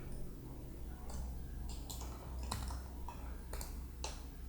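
Computer keyboard typing during design software work, a handful of sharp, irregular key clicks close by over a low steady hum, no talk.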